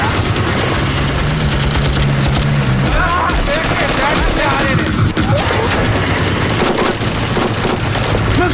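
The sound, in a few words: gunfire in battle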